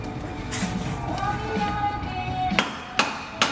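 Three sharp metallic hammer strikes on a suspension part near the end, evenly spaced and close, following a stretch of low workshop noise.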